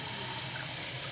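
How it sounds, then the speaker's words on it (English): Water streams steadily from a kitchen tap into a cooking pot, a continuous close hiss and splash with no voices. "Whatever pot you have, you put half the water in there."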